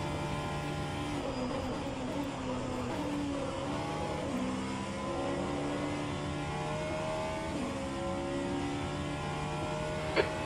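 Race car engines in rFactor 2 at Monza during a six-hour endurance race, a steady moderately loud engine drone with rising and falling revs through gear changes and other cars passing, lasting about ten seconds.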